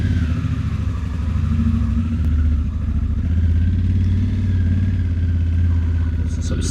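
A motorcycle engine drones steadily and close while riding off-road on rough ground, with a low rumbling throb and some clatter, loud and continuous without a break.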